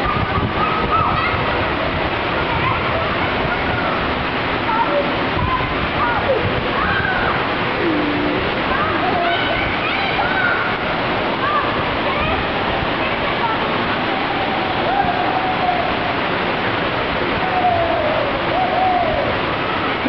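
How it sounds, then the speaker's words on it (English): A waterfall at a Westin hotel pool makes a steady, continuous rush of falling water while people talk over it. "Got a waterfall back there."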